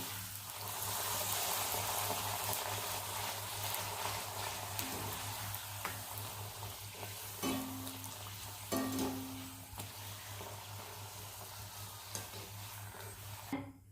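Puris deep-frying in hot oil, a continuous soft bubbling sizzle with occasional scrapes and clinks of a slotted spoon, fairly faint and steady throughout, no talk.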